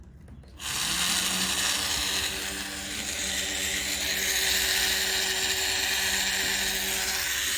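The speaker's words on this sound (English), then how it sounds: "And I'll grab my Dremel. Get some power going." A Dremel rotary tool spins up after a short quiet moment and then whines steadily and loudly as it carves boulder opal. The high-pitched grinding stays fairly even throughout, and no one speaks.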